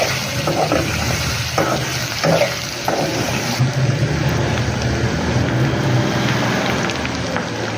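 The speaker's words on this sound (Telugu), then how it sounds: "ఇప్పుడు కొబ్బరి పొడి, అల్లం కొబ్బరి పొడి వేసుకొని కలుపుకోవాలి." Coconut powder and ginger are stirred into chicken pachadi in a pan, a loud, continuous scraping and sizzling wash with a few heavier scrapes near the start.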